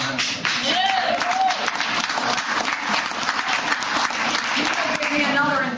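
A crowd at a GOP rally in Northampton applauds Senator Tommy Tomlinson with loud, sustained clapping, some cheering voices and whoops audible within the dense applause.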